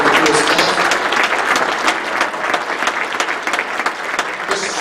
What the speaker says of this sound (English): Give it a round of applause for the kids from the high school that came this morning